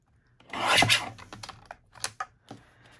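Close, dry rasping scrapes come in short irregular strokes, like a blade shaving material, with brief pauses between bursts.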